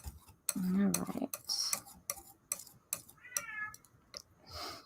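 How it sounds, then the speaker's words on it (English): A house cat meows several times indoors, a drawn-out wail followed by shorter calls, alongside sharp ticking clicks and brief bits of talking. "Can you hear my cat?"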